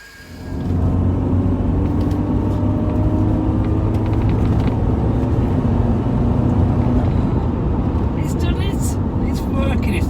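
A Mercedes SLK driving after a mass air flow sensor repair, its engine giving a steady low rumble and road hum from inside the cabin that holds evenly for about ten seconds, with a faint voice under the noise.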